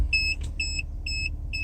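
A BMW 1 Series E87 parking sensor beeps in reverse, four evenly spaced pairs of bright electronic tones sounding clearly over a low idling engine hum.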